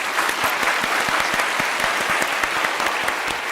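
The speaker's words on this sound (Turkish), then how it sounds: "Bir alkış rica ediyoruz" A studio audience on the Alfapetek quiz show claps steadily and fairly loudly, with dense, even applause running throughout and no one talking over it.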